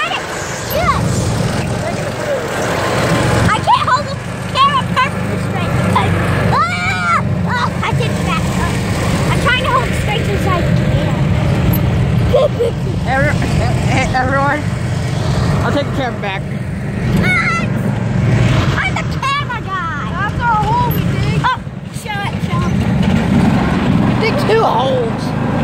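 A riding lawn mower engine runs steadily throughout a bumpy ride across a lawn, a constant low drone with rattles, while people talk and shout over it.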